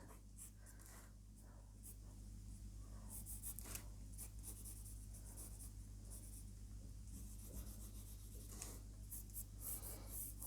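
Pencil sketching lettering on paper: soft, continuous scratchy strokes in short repeated bursts, close and quiet, over a steady low background hum.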